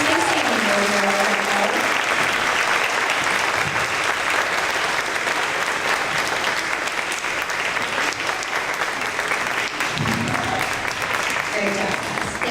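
Audience at a third grade awards event applauds the winners, sustained dense clapping over twelve seconds with a voice speaking over it at the start and again near the end.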